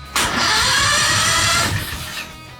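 A 670cc off-road go kart engine cranks and catches abruptly, then runs loud and close with a rough, buzzing roar for over a second before the revs sag and fade.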